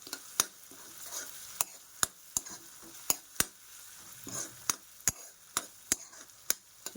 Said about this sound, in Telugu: ఒక్క టమాటో వేసుకొని బాగా మిక్స్ చేసుకుందాం